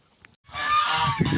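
A goose gives one loud, drawn-out honk up close after a brief quiet moment.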